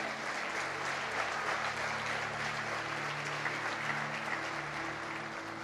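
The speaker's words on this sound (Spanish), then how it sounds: "Dale un aplauso al Señor." A church congregation applauds together in steady, dense clapping that stays loud and even from start to finish, filling the whole clip without pauses.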